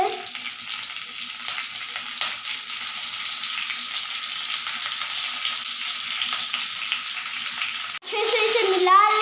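Curry leaves spit and crackle as they hit hot oil in a pan for lady finger curry, a steady sizzle with scraping stirs, then a sudden louder burst of frying near the end.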